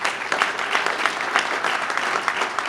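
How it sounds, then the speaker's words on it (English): A large crowd gives a sustained round of applause at the North American Car, Truck and Utility Vehicle of the Year award presentation, dense and steady throughout with no voices over it. "a round of applause for them"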